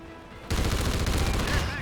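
Rapid automatic gunfire in the video game Call of Duty Ghosts, bursting in loud and continuing as a dense, steady stream of shots for over a second.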